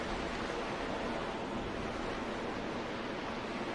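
Water rushes steadily into a pond from an unclogged spring in Zelda: The Wind Waker, a constant soft hissing flow with no breaks, moderately distant and even in level.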